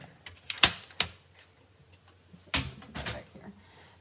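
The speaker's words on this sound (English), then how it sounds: "So this is going to be a little harder to crumple than normal because it's vellum." Sheets of vellum paper being crumpled by hand during a card-making class, giving a few sharp crinkling bursts separated by quiet gaps, close and fairly loud.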